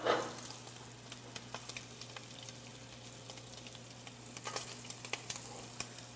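Shrimp sear in a hot pan for shrimp scampi, left unmoved. A steady, fairly quiet sizzle runs throughout, with scattered sharp pops and crackles and a low hum behind it.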